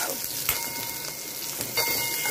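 Onion with ginger and garlic paste sautéing in a pan for a green peas curry, a steady close frying hiss broken by a couple of light stirring knocks.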